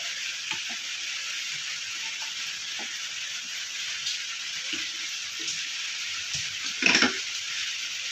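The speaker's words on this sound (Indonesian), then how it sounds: "bisa dilihat ya airnya udah mendidih ya" Water at a rolling boil in a pot for pindang nila fish stew makes a steady, soft bubbling hiss with scattered small pops and a brief louder clatter near the end.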